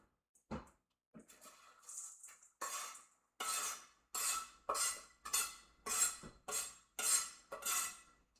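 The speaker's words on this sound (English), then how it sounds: "Alright, chopping up breadcrumbs." Knife chopping breadcrumbs on a board while making Swedish meatballs, a run of about ten firm, evenly spaced chops that speed up after a few scattered first strikes, close and alone.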